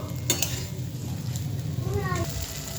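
Poppy seed paste frying with drumstick pieces and potatoes over medium heat, giving a low steady sizzle with a few clinks and stirring scrapes against the pan, close and fairly quiet.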